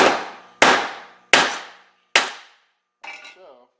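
A drill chuck clamped in a vise takes four sharp, ringing hammer blows a little under a second apart, each metallic clang decaying quickly, followed by a softer scraping rattle.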